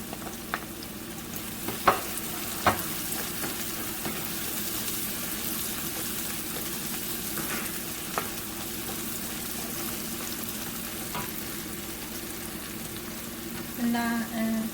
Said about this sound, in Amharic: ይሄን ያህል ሽንኩርቱን ተጠበስኩት በኋላ ነጭ ሽንኩርቱን ጨምረዋለሁ።